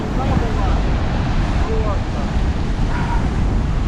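Storm wind and huge waves on the Crimean coast: loud, continuous gusting roar and crashing surf buffeting the microphone, with a brief spoken word near the start.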